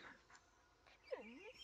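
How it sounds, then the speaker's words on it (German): A dog in the Blair Witch video game gives faint whimpers and short yelping calls, quiet and close, with a rising whine near the end. "Höre auf sein Bellen, also höre auf sein Bellen."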